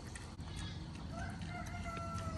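A distant rooster crows faintly, its drawn-out call rising over steady low background rumble and noise.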